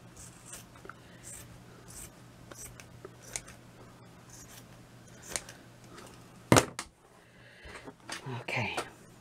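Scissors trim a wine-coloured velvet pin book close by, a few soft quiet snips scattered through low rustling and handling noise, with one sharper cut near the end.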